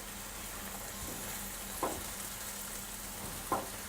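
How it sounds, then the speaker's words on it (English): Mushrooms and peppers sizzle softly in a pan while being stirred, a faint steady hiss broken by two brief clinks of a utensil against the pan. "That's it, you keep stirring, Madalena."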